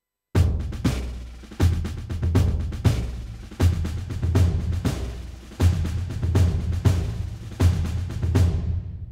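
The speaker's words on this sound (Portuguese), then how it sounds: "isto é o som de ambiente da sala onde esta percussão foi gravada" A drum kit from a Yamaha Genos2 keyboard plays a steady beat, kick and snare hits ringing out with the natural recorded room ambience, loud and clear, no talking.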